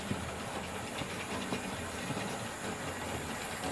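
A Hornby model steam locomotive runs along a small home model railway layout, giving a steady hiss with faint clickety-clack of wheels over rail joints, continuous and fairly quiet with no talk.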